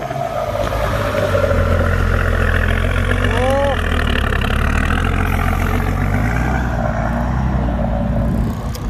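A turbocharged Hino dump truck engine runs with a steady low rumble and loud high-pitched turbo whine, close and continuous, with someone talking and cheering over it.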